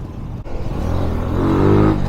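Road traffic heard from a Kawasaki W175 motorcycle in a city jam, with engines idling and revving up close as a steady loud rumble that builds toward the end.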